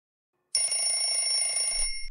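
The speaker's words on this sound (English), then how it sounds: "I heard your alarm bells." Alarm bells in a children's cartoon clubhouse start suddenly after silence and ring in a continuous bright metallic trill for well over a second.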